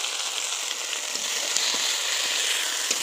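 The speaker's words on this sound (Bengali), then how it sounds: "টমেটো কুচি দিয়ে আমরা ভালো করে এটা নেড়ে ছেড়ে একটু ভাজা ভাজা করে নেব।" Chopped tomatoes fry in a pan with ginger paste in a home kitchen, a steady close hiss of sizzling with scattered small crackles and pops throughout, no talking.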